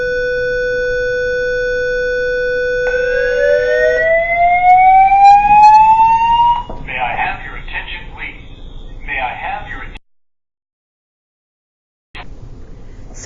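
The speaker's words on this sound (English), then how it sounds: "Fire alarm went off." An electronic fire alarm blares loudly, a steady tone jumping to a rising wail before pulsing beeps, then stopping abruptly after a brief silence and resuming.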